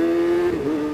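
A Kawasaki ZX-636R motorcycle engine holds a steady, strong tone through a short burst of acceleration, close and loud, with a slight pitch shift midway and no voices.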